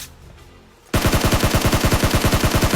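Rapid automatic gunfire erupts loud and close in a battle royale shooter, a steady string of sharp repeating shots following a short quiet stretch of game ambience.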